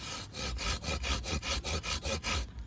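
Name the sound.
hand saw cutting tree branch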